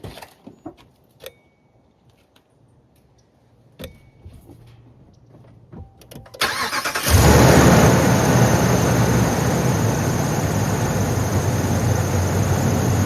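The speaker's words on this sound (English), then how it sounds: "I'm gonna go ahead and jump start my vehicle using the pack." A car engine cranks and catches after a jump start from an AVAPOW jump starter pack, preceded by faint clicks and clatter, then settles into a loud, steady running roar that continues close to the microphone.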